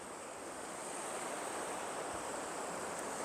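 Steady broadband rush of river rapids at the Ocoee Whitewater Center, continuous and fairly loud with no voices, a constant hissing wash of moving water running low.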